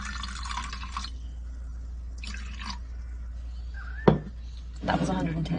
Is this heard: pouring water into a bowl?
yes